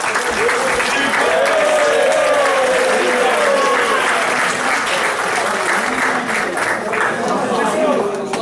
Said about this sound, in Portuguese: Uma salva de palmas pela coragem.